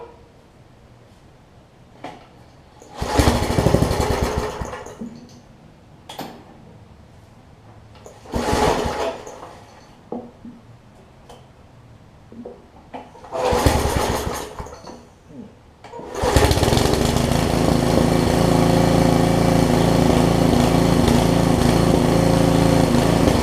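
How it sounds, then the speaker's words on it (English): A Briggs & Stratton 5 hp engine on a Craftsman tiller is pulled over several times with short bursts, then catches and runs steadily at a loud, constant drone close by, with no talking. "Let me crank it up one more time and see what happens."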